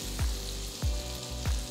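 Two pieces of butter sizzle and fry in a wide pan for a garlic recipe, a steady close crackle with a few swooping bursts as it melts.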